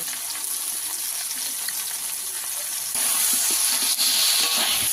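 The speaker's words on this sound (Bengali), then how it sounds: "ভালো করে এই কচু আলুটাকে কষিয়ে নেব" Taro and potatoes with turmeric powder and green and red chilli sizzle steadily in a pan, a close, even hiss that grows louder partway through, with no talking.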